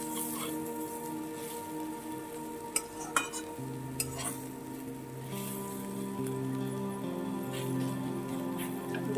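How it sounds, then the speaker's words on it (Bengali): Bottle gourd peel being stir-fried in a pan gives faint, steady sizzling with a few soft scraping clicks from stirring, sitting quietly under a low background hum. "এবার সুন্দর করে নাড়িয়ে চাড়িয়ে আরও 2 মিনিট আমি ভেজে নেব।"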